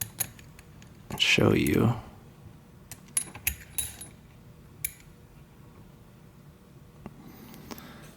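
Metallic clicks, scrapes and a short clattering burst as an Abloy Classic disc lock is handled and clamped into a vise, with someone speaking briefly over the small rattling sounds.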